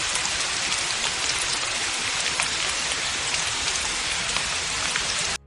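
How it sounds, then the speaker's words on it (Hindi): Steady rain pours down, a dense continuous hiss of drops on a surface, fairly loud and unbroken, with no voices. "बारिश शुरू हो गई।"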